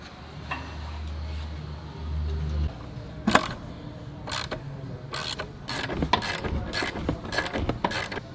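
A ratchet clicks in a series of sharp, evenly repeated bursts while a loose upper control arm bolt on a Jeep's rear suspension is tightened, close and clear after a brief low hum.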